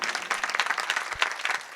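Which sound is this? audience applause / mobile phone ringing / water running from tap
audience applause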